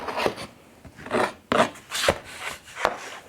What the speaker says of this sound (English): I actually take my chisel and just back drag it, and that will take out chunks